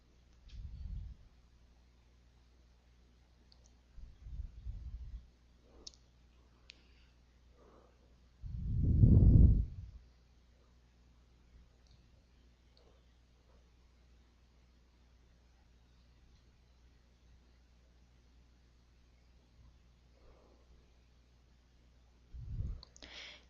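A computer mouse clicks quietly and sparsely on a near-silent background, a few isolated soft clicks and short taps spaced several seconds apart.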